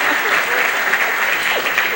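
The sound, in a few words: audience applause at a pageant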